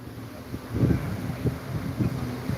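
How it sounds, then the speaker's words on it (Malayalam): Strong wind blows at Jatayu Earth's Center, a steady rushing roar buffeting the microphone in low, repeated gusts, with no voices. "കാറ്റ് വീശുന്നുണ്ട് ശക്തമായ കാറ്റാണ് കേട്ടോ"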